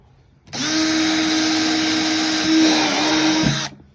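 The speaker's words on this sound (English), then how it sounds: "So we're just going to drill one here." A power drill bores an air hole into a plastic rain barrel, a steady loud whine holding pitch for about three seconds, then dipping as the bit breaks through and stopping.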